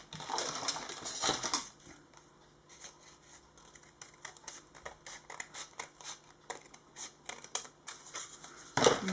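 Small pair of scissors snipping paper close by while making a loaded envelope with staples, a series of short crisp cuts and light handling noises on a quiet background.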